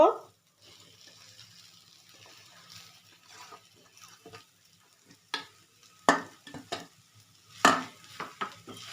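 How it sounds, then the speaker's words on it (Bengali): Potatoes are stirred into a pan of oregano-seasoned filling for mini moghli snacks, giving a faint sizzle with a few sharp scraping strokes of the spoon that come later, under intermittent quiet talk. "নাড়াচাড়া করে নেব হালকা এখন আলুটা দিয়ে দেব"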